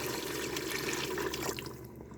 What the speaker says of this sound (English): I'm going to go in with that can of beef broth.